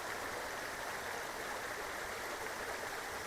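Steady rushing and gurgling of river water flowing nearby, continuous and even throughout with no voices.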